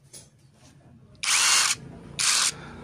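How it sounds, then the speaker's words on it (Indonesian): An 18V cordless impact driver, Dagmara or Bultrax make, fires in two short, loud whirring bursts, the second briefer, separated by a quiet pause with faint background noise. "lanjut kita akan uji kedua impact driver ini, Dahmara dan Bultrex."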